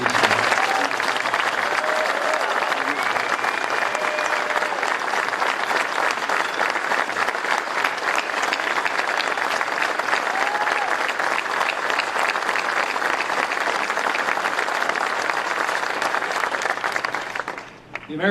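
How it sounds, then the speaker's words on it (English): A large audience applauds steadily for United States Army veterans at Caterpillar headquarters, a dense, even round of clapping that holds for the whole stretch and fades out only at the very end. "Would you join me in a round of applause for every man and woman here who's worn the uniform of the United States Army?"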